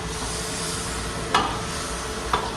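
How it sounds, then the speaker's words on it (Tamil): Tomato and onion paste frying in a pan for Chettinad chicken liver thokku, an even low sizzle with two sharp spoon clinks against the pan, close by and with no talking. "மறுபடியும் கொஞ்சம் சிறுவில் வெங்காயம் தக்காளி பேஸ்ட் போடுறாங்க"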